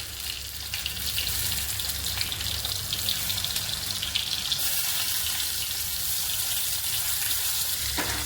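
Nigella seeds frying in hot oil in a pan with ridge gourd pieces give a steady, dense hiss throughout, close and even, with no talk.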